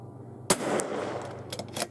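A single sharp rifle shot cracks at close range during scope testing at 50 yards, followed by a brief echoing tail and a few faint clicks and rustles afterward.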